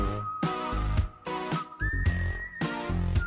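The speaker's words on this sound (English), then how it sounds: "I like the whistle." A melodic whistle line carries through a song, with sustained whistled notes over a rhythmic beat and chord hits that repeat and stop at steady intervals.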